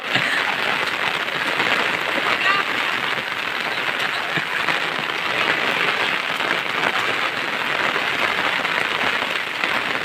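Monsoon rain falling in a Konkan forest, a dense, steady hiss of drops striking leaves and surfaces, loud and unbroken throughout with no voices.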